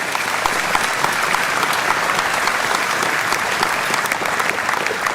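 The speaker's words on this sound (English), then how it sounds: "Let's have a round of applause." Loud, dense applause from a crowd at a Reform party rally in Hampshire, sustained and even throughout with no talk over it.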